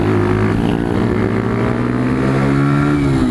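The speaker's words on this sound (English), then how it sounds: "The exhaust sounds really nice on it as well." A Sinnis Scrambler 125 motorcycle's exhaust drones loud and close, its steady engine note rising slightly in pitch as the revs climb, with no one talking.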